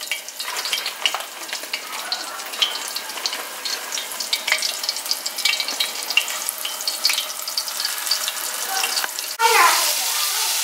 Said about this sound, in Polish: I smażymy kurczaczki.